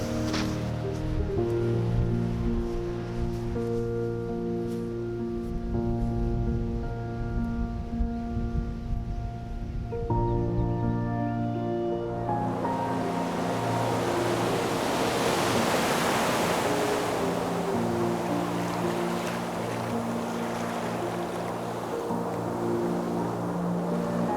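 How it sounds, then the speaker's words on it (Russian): Broad, steady roar of ocean surf growing louder midway, while a tonal musical drone plays underneath during the first half. "Чем дальше я иду, тем громче я слышу"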